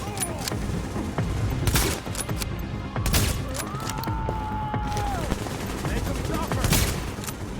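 Gunfire in the shooter video game Tom Clancy's The Division, with repeated bursts of shots over continuous game noise and a rising electronic tone in the middle, the firing steady and close.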